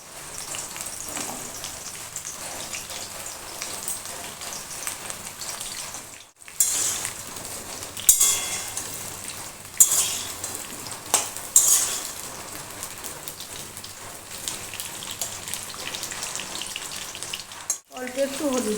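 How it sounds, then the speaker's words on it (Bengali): Potatoes frying in mustard oil in a wok, with a loud, steady, crackling sizzle that runs throughout, broken by two short gaps and a few brighter bursts and clinks. "এখন আমি আলুগুলোকে তেলে ভালো করে ভেজে নেব।"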